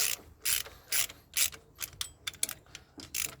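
A ratchet tightening the thermostat housing bolts on a Kia Carens, a close sequence of about eight short clicking bursts in an uneven rhythm with brief pauses between strokes, no voices.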